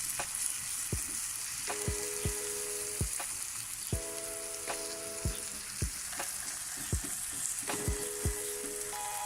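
Tomato masala being stirred in a pan with a spoon, giving repeated scraping knocks over a steady frying sizzle, close and moderately loud, with no talk.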